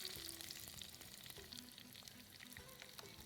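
Cut pumpkin frying in a pan with curry leaves, giving a steady crackling sizzle with small pops and spatters, faint and close, with no voices.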